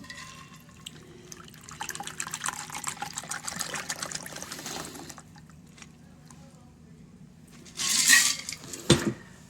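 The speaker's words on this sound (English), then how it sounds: "Let's now pour it into our prepared coupe." A shaken cocktail poured into a coupe glass: a steady liquid pour lasting a few seconds, then a short pause and a brighter splash-and-clink of glass near the end.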